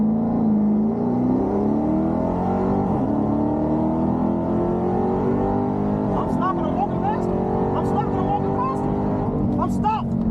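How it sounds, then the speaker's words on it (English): A Dodge Charger Redeye's supercharged V8 revs hard in second gear, a loud, continuous rising engine drone with whine layered on top, steady throughout, while someone talks over it. "Same thing, second gear. Gonna bring the RPMs up."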